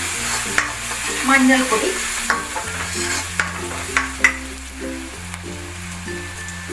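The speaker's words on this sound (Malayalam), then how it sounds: "നന്നായിട്ടൊന്ന് വഴറ്റി കൊടുക്കുക" Spices and garlic are stirred and sautéed in a pan for a kabuli chana curry with turmeric powder. Steady frying comes with spoon scrapes and knocks, under background music, and a voice speaks briefly.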